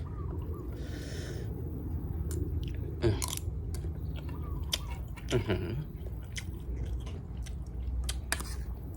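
Close, wet chewing and biting on a breakfast of stir-fried basil squid with rice, fried omelette and chili fish sauce, with soft crunches and squishes scattered irregularly through a quiet room.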